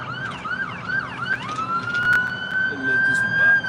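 An emergency vehicle siren wails in rising and falling sweeps as it passes near a busy street in Arlington, steady and fairly loud over traffic rumble, with faint voices in the background.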